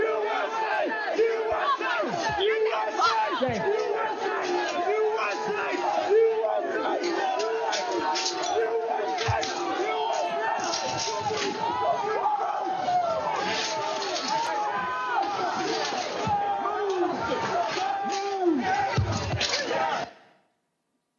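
A large crowd on January 6 yells, chants and shouts continuously while breaching the police line at the Capitol Peace Circle, with loud overlapping voices and sporadic thuds throughout before cutting off abruptly.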